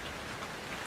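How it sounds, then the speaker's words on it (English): Steady rain pouring in the horror game Outlast 2, a dense, even hiss of falling drops that lasts a single second with no voices. "Is it actually raining blood?"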